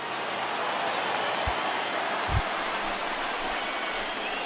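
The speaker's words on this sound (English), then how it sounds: "There is rain in the area" Steady rain hisses across a ballpark in a baseball video game, a dense, even wash of falling drops with a couple of soft low thumps.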